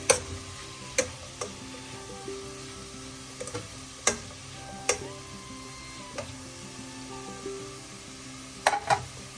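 Green cheera thoran being stirred in a pan with salt, a soft continuous sizzle broken by sharp periodic clicks and scrapes of the spoon against the pan, close and clear with no talk.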